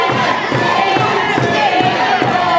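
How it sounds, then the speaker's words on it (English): A loud, dense crowd at a live professional wrestling show cheers and shouts in a steady roar that fills the whole stretch without pause. "This crowd are so hot."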